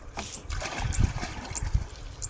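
Water seeps up from the ground between field furrows and is scooped into a container to fill it for thirsty sheep, with close, uneven splashing and trickling and a few louder sloshes.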